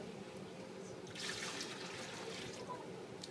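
Warm water poured from one container into another, a soft continuous trickle and splash that swells briefly in the middle, faint and with no talking.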